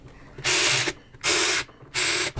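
A ratchet tightens wheel bolts in a star pattern on a 21-inch Advanblack Blazer wheel, three loud, evenly spaced bursts of rapid clicking, each about half a second long, with short quiet gaps between them.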